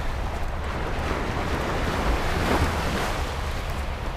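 Waves wash steadily onto a sandy lakeshore as boats troll close in, a continuous broadband rush of surf and wind with a faint low engine-like rumble underneath, no voices.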